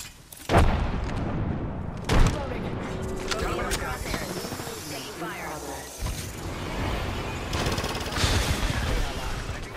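A grenade goes off in a chaotic shooter video game amid scattered gunfire, sharp impacts and mechanical clatter, with a thrown frag bursting among shots and voices calling out over the combat.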